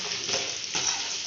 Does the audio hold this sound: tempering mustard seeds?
yes